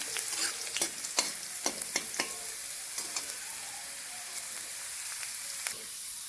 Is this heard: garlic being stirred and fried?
yes